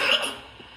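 A single short, harsh cough bursts out close by, then tails off into quiet room noise.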